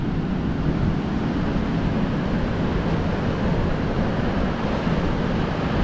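Ocean surf rolling onto a beach at Chałupy on the Polish coast, a steady, loud wash of breaking waves with wind rumble on the microphone and no voices.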